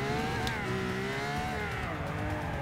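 Race car engine in the video game Forza 6 held in a low gear, a steady loud buzzing drone with harmonic pitch wavering slightly up and down, continuous for the whole stretch with no talk over it.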